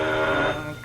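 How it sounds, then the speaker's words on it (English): An old-fashioned telephone bell rings loudly and continuously in a 1935 radio drama, a sustained metallic trill that fades slightly toward the end. "Confound that phone."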